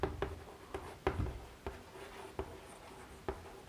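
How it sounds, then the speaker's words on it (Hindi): A pen or marker writes a word by hand on a surface, making soft scratchy strokes with sharp taps at the start of strokes, about seven of them at irregular intervals, close and quiet with no talking. "यहाँ पे लिख देते हैं हिस्टोग्राम"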